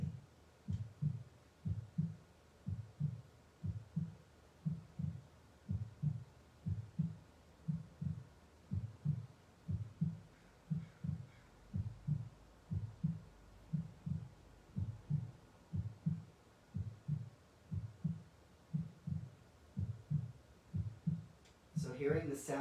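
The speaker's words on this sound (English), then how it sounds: "So hearing the sound of the heartbeat" A slow, steady heartbeat thumps in regular deep double pulses, about one per second, over a low hum, continuing evenly with a faint brief noise near the end.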